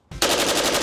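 An AC556 rifle emptying its magazine on full-auto: after a brief lead-in, a loud, close burst of rapid, evenly spaced shots rolls on without pause to the end.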